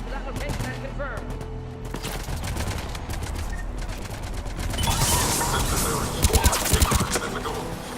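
Enemy gunfire in Mass Effect 3 crackles in bursts, building to louder rapid volleys toward the end, with voices talking over the shooting.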